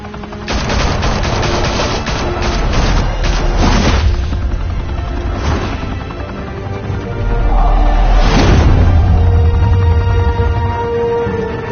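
Gunfire in the video game Batman: The Telltale Series, a loud dense barrage of rapid shots and booming blasts filling the whole stretch, with a heavy impact surging near the end.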